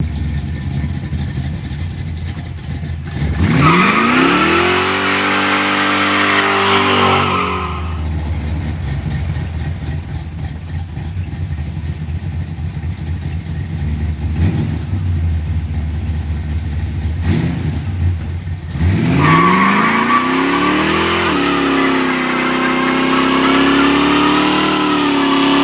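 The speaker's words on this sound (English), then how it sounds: "A couple of massive big smoky burnouts and those flat spots are gone." Car doing massive smoky tire burnouts to clear tire flat spots, with two long, loud bursts of engine revving and rising roar separated by a quieter idle stretch, no talking.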